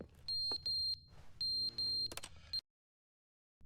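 Loud, repeated electronic beeps in bursts from a fallen clock in The Stanley Parable: Ultra Deluxe, a bright high tone pulsing several times before cutting to silence.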